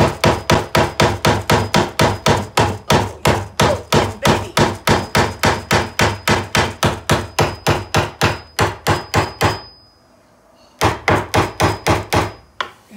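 A hammer pounds steadily on a wooden chair through a padded block, with dozens of loud, close, evenly spaced blows, one short pause near the end, then more strikes.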